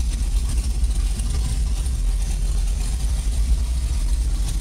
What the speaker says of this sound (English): So yeah, there's the engine.